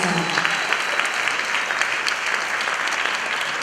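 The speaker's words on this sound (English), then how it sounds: "give him a round of applause for Mr. God." Steady audience applause at a school performance event, dense continuous clapping that holds at an even level throughout, moderately close, with faint voices mixed in.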